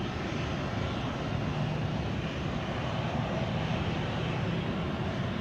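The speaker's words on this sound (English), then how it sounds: "Atlas 747 freighter, Ramon says." A four-engined Atlas Air Boeing 747 freighter departs Amsterdam Schiphol, its loud, continuous engine roar heavy in the low end and filling the air evenly from start to finish.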